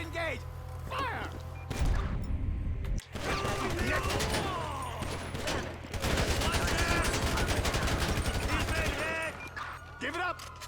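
Heavy gunfire in Grand Theft Auto V: dense bursts of automatic shots and loud repeated blasts that fill most of the stretch, with shouted voices and game chatter in the short gaps between volleys.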